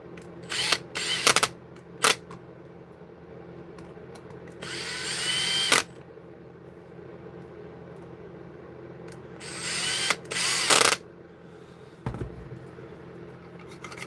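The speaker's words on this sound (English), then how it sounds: "That's plenty free, but we'll put the screws in anyway." Screws are driven into an AEG airsoft gearbox with a power driver, heard as a few short close whirring bursts separated by quiet gaps and small handling clicks.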